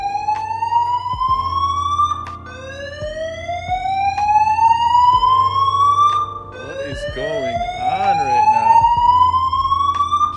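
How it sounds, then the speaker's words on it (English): An airport terminal alarm blares loud and close, its rising electronic tone sweeping upward again and again while a person talks over it. "there's nobody here and the alarms are just going off"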